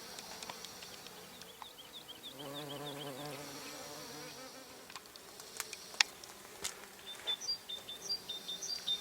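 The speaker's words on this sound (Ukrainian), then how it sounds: "на нашій жовтій смородині працюють і осмії, і бджоли, і джмелі" Steady buzzing of mason bees, honeybees and bumblebees at close range on flowering yellow currant, with a low droning hum rising and falling as insects move around, faint bird chirps in the background.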